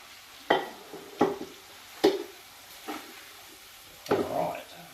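Ossobuco and browned chuck with stock and flour being stirred in a wok, giving a handful of scraping, sizzling strokes spaced about a second apart, close by with a light frying hiss between them.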